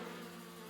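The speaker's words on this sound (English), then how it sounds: "All those bees." Cartoon bees buzzing around a hive in a tree, a steady dense insect drone heard alone and close for a brief moment.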